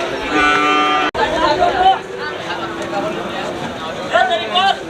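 Cattle at a busy livestock market, heifers on sale, with a low moo and general animal noise beneath constant nearby chatter and talking voices.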